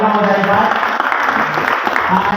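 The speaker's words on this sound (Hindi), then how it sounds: "मुफ्ती शौकत सर के लिए जोरदार तालियां हो जाएगा" At a cancer-awareness event, an audience claps for Mufti Shaukat, a loud dense wash of applause mixed with overlapping voices and crowd chatter throughout the short burst.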